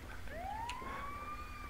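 An ambulance siren in the GTA 5 video game: a single faint rising wail that swells in and holds steady over a low background hum.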